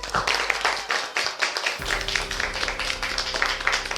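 Studio audience on a Bengali reality show breaks into loud, sustained applause and clapping, dense and continuous throughout with a fuller swell in the second half.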